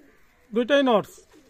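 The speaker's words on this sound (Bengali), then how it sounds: "এক জোড়া কবুতর আছে" A male Pakistani high-flyer pigeon gives a single close, throaty coo, rising then warbling briefly, against a quiet background.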